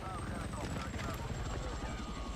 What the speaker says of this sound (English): it looks like also they have our helicopter